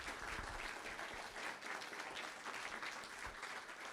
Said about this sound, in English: We get one more round of applause from Maryland Webster.